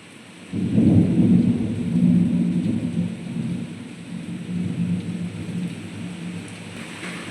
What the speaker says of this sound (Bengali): প্রচণ্ডভাবে মেঘ ডাকছে প্রচণ্ড বিদ্যুৎ চমকাচ্ছে